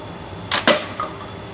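A gun fitted with a red dot sight fires at a bottle: two sharp, close cracks come in quick succession, followed by a fainter knock, against a quiet background.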